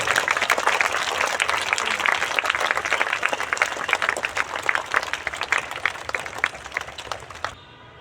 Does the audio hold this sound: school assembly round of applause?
yes